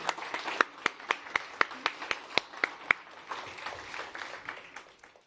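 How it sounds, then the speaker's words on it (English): An audience at the Reuters NEXT Europe summit in London claps, the sound starting with a few loud, distinct claps in a loose rhythm and then dissolving into softer, denser, fading applause. "Big round of applause for Rachel and Kate."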